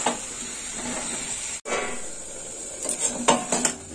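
Drumstick and potato curry fries in a pan, with a continuous close sizzle, spoon scrapes and clinks against the metal, and a short cut-off partway through.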